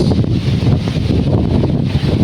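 Strong typhoon wind roars and buffets the microphone in a constant loud rumble, with no voices.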